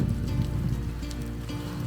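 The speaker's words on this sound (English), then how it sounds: "It's raining and snowing and thundering And lightning." Rain falls during a snowy mountain storm in Montenegro, a brief, steady patter of drops on a surface with a dull low rumble beneath it.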